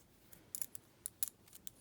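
Light tapping on the blade of a Benchmade 51 knife in a tap test, a few quick faint clicks in an irregular rhythm, close and otherwise quiet.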